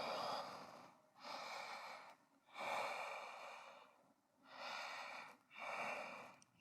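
Slow deep breathing during a seated yoga stretch, several long airy inhales and exhales in even cycles, close to the listener and soft, with no talking.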